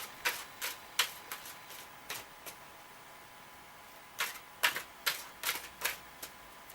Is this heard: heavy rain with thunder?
no